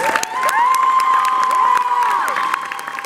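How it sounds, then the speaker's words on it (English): A Comic-Con 2018 fan favorites panel audience claps and cheers for the guests, a dense, loud crowd roar with whoops and whistles rising over the clapping. "Let's give them a round of applause."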